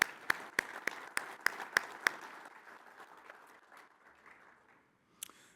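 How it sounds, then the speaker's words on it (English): Applause at an industry trade conference opening session in a hotel ballroom: a few sharp, spaced claps up front, then a soft, sustained patter of clapping that gradually fades toward near silence, with one brief clap burst at the end. "Let's give them a round of applause."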